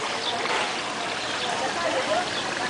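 Floodwater flows through and around a flooded house, with its basement filled to the top, making a steady broadband rushing wash that holds even in level throughout, with no distinct voices breaking through.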